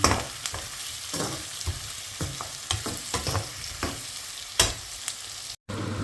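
Prawns fry in oil in a home kitchen pan, a continuous sizzle broken by repeated scraping and knocking of a spatula as they are stirred, with a brief cut near the end.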